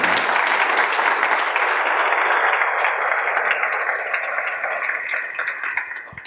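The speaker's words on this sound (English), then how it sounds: "So let's give a round of applause." Audience applause at a campaign results announcement for the Desert AIDS Project, loud and dense at first, then gradually thinning and fading into scattered claps toward the end.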